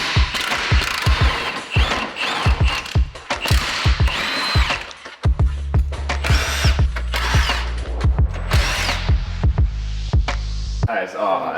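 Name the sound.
grinding metal on a car build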